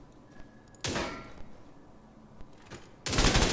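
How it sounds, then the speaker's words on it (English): Gunfire from shooting at a target in The Division 2, two loud bursts of rapid shots, one just before the first second and another at the end, separated by quieter clicks and small impacts. "So you can be shooting at a target."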